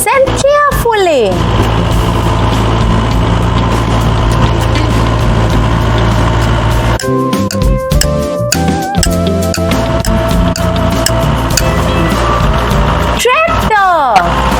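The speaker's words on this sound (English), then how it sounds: "It's tractor." A tractor engine idles with a steady, low, loud rumble that breaks into a rougher, knocking chug partway through.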